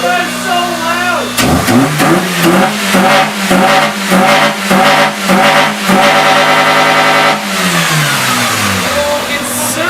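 Close, loud car engine with a cold air intake surges in a repeating rise-and-fall rhythm, several revs in a row before settling to a rough idle, with excited voices over it.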